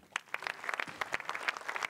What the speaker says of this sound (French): Vous pouvez l'applaudir, Juliette.